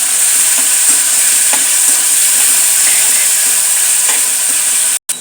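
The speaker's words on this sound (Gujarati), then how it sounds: "હવે ક્રશ કરેલી ઓનિયન, બરાબર મિક્સ કરી દઈશું." Crushed onion fried in a pan with cumin for a Punjabi corn dish, giving a loud, steady, close sizzle and hiss, with faint stirring scrapes and a brief cut near the end.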